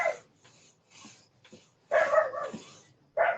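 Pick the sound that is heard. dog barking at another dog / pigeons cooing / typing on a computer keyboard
dog barking at another dog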